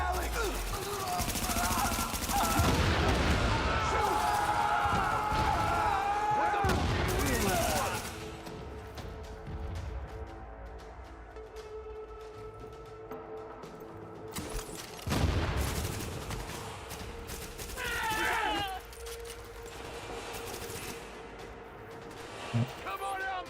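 Gunfire from the video game The Division in a survival fight against hostiles, loud bursts in the first eight seconds and again around fifteen seconds, with people talking over the shooting.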